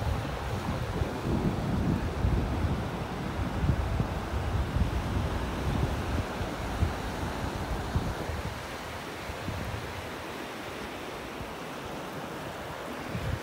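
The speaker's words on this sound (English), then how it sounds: "Well, that wind is cutting through me here." Strong wind blows steadily across a beach in North Naples, Florida, roaring into the microphone with surf rumbling underneath, easing slightly toward the end.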